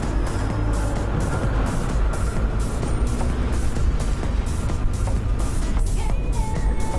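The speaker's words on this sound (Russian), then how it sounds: "Немножко газку дал" Motorcycle engine running as the bike rides off a ferry, a loud, near, rough rumble with pulsing throttle surges and a steady low drone throughout.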